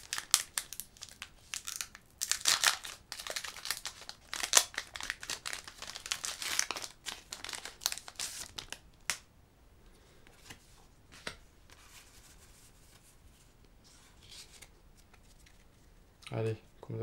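Pokémon trading cards crinkle and shuffle close up as a foil booster pack is torn open and the cards are flicked through. A voice talks intermittently over the crackling handling, and a brief low thump comes near the end.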